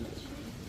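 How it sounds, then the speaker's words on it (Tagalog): A racing pigeon gives a single short, soft coo, close by, with no voices over it. "So ito yung mga ibon niya from Nonchok, saka papakita naman niya si Pink Nose"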